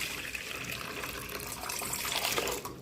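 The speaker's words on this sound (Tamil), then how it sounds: "இப்போ இதில் தண்ணி ஊற்றணும்" Water pours steadily into a cooking pot on the stove, a continuous splashing gush that builds slightly toward the end.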